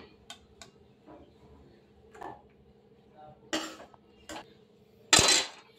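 Cauliflower, potato and koi fish curry is served onto dishes, with sparse clinks of a spoon or ladle on plates and pots, ending in a louder clatter, in an otherwise quiet room.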